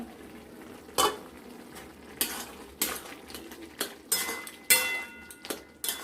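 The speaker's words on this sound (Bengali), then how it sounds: "এবার আমরা ঢাকনা খুলে একটু দেখবো" A pot of taro greens cooking with salt, its lid lifted off: several clattering metal knocks and scrapes of lid and utensil against the pot, spaced irregularly over a few seconds, close, with a light simmer beneath and no talk.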